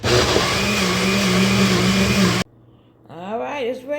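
A blender whirs loudly and steadily while blending a smoothie made with herbal tea, then cuts off abruptly, and a person starts speaking moments later.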